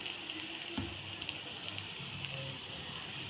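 Onion and spinach bajji fritters sizzle steadily in hot oil, a close, even crackle and hiss with a few brief pops and no talking.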